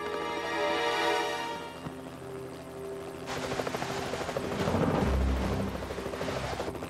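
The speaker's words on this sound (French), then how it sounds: "C'est un hélicoptère de la télévision." A TV news helicopter's rotor chop thuds steadily overhead, loud and close, the blades beating in a fast rhythm throughout.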